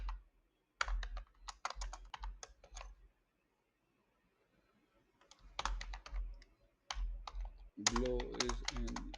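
Fingers typing a prompt on a computer keyboard, with close, crisp key clicks in quick bursts separated by a pause and a few heavier thumps, ending in a dense flurry of keystrokes.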